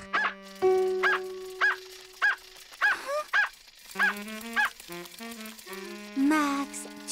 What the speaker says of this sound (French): Il est bien gentil ton chien Médor, mais il aboie un peu trop fort